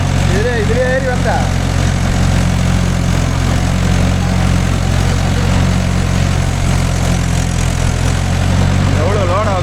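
A Mahindra 415 DI tractor engine drones steadily and loudly under load while pulling a 36-blade rotavator across farmland, a continuous low rumble with brief whistle-like tones riding on top and a voice speaking over it.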